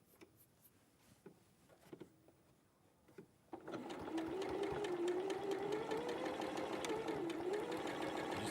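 After a few quiet clicks and taps, a sewing machine starts up and runs at a steady, even whir, stitching fabric along a marked line for the rest of the clip.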